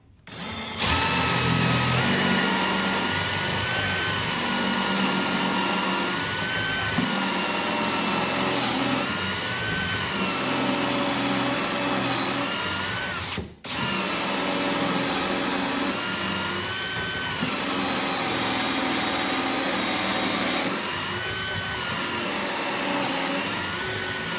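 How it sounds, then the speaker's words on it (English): A power drill in a Kreg pocket-hole jig whines steadily and loudly for a long stretch, boring pocket holes into wood, with one brief pause partway through. "You don't want to just drill directly down because there's going to be shavings that come out of these holes."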